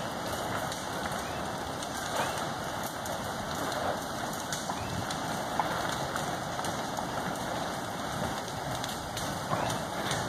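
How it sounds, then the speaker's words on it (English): Rain falling near a fresh Kilauea lava fissure in Leilani Estates, Hawaii, before dawn, a steady dense patter over a constant low rumble, with occasional faint nearby taps. "I feel a few raindrops."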